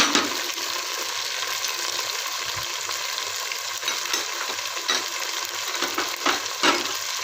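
Chopped tomatoes go into a pan of frying onions with a splash of water for kofta shahi pulao. A steady, close sizzle and bubbling carry on without pause, with occasional scrapes and clinks as the mixture is stirred.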